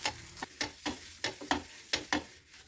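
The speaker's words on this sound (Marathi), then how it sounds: "तव्यावरती थोडंसं तेल टाकायचं, नंतर याच्यावरती थोडंसं पाणी शिंपडायचं" Oil and sprinkled water sizzle on a hot nonstick griddle being readied for dosa, in a run of about eight sharp, crackling bursts that rise and fade in quick succession, fairly close, with no voices.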